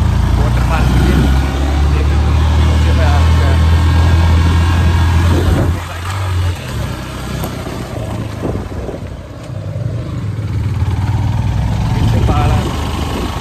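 A motorbike rides along a hilly mountain road near Rishikesh, its engine a loud, close, low rumble that drops and swells as the ride goes on.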